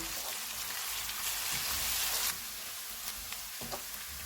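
Close, steady sizzling of ginger garlic paste frying in hot oil in a karahi, with soft stirring scrapes now and then.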